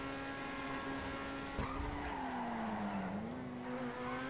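A modified sports car in GTA Online drives at a steady engine drone, then a sudden thump gives way to a long tire squeal that bends in pitch as the car slides through a turn.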